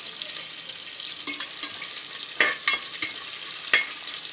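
Onions fry in hot oil over high heat while being stirred for a spicy mutton gravy curry, making a steady sizzle with a few sharper scrapes and clinks from the spoon against the pan, and no talk.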